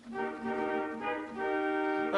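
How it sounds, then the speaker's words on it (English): A brassy, reedy theatre organ trumpet stop plays a few short held notes in sequence, bright and buzzing, with a small swell at the end. "We then got a trumpet, and that sounds a bit like this."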